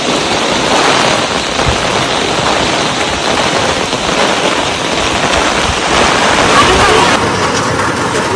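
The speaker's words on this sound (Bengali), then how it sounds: "এত জোর বৃষ্টি হচ্ছে।" Heavy rain pours down in a loud, steady roaring hiss that never lets up.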